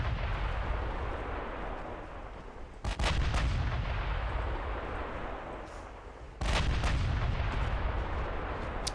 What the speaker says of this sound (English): Okay, 5-inch 38s are officially firing